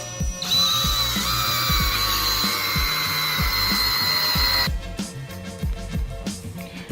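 A power drill with a buffer pad and Meguiar's Ultimate Compound polishes scratched car paint, whirring steadily at high speed, then spinning down, over a rapid mechanical clicking rhythm.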